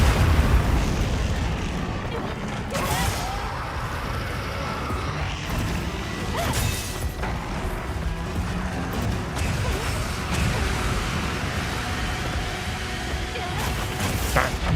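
Bombs blast repeatedly during a monster hunt in the video game Monster Hunter Wilds, heavy rumbling explosions and crashes layered into a dense, loud battle roar while people talk over the action.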